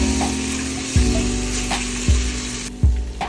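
Chili, coriander and turmeric powders stirred in a hot pan, a steady loud sizzle with a few distinct spatula scrapes spaced about a second apart, no voices.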